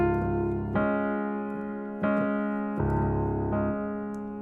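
Low keyboard notes in left-hand octaves are struck in a steady sequence, each ringing briefly before the next, with a few soft higher notes above.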